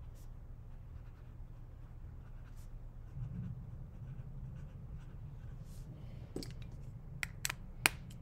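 A fountain pen scratches across paper atop a small wooden base, soft and close with faint irregular strokes, ending in a few sharper taps and clicks.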